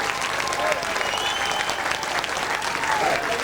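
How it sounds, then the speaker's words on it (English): An audience claps warmly at the 2000 British Masters Grasstrack prize-giving, a dense, even burst of applause heard close and loud throughout the short stretch. "Let's give another round of applause, why not?"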